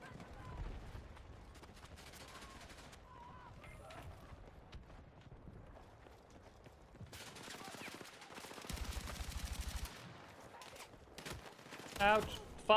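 Rapid submachine-gun bursts from a Star Citizen firefight crackle in clusters, with a denser volley near the end, mixed under ongoing in-game noise and someone talking.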